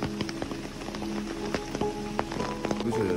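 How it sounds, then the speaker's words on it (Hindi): Light rain falls in a village, a soft steady patter with scattered louder drops landing close by on surfaces, and nothing else prominent. "अब फिर से बारिश हल्की हल्की हो गई है"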